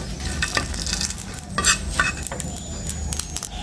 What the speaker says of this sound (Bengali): প্রথমে তেলের ভিতরে শুকনো মরিচটা ভেজে নেব।